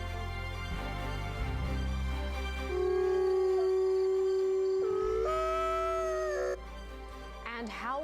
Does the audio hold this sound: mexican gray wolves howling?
yes